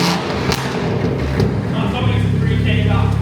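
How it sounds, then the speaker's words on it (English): A 600 bhp BMW M140i revs through a custom-fabricated exhaust, a loud, sustained engine roar with a sharp blip near the start, while someone talks over it up close. "Here, another rev."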